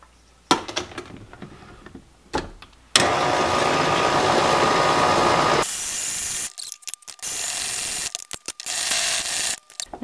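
An electric mixer blends dry ingredients into ginger cookie dough, with a few clicks and handling noises followed by loud sustained motor runs that change pitch and stop and start near the end.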